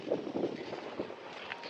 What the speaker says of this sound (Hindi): काफ़ी तेज़ हवाएँ चल रही हैं।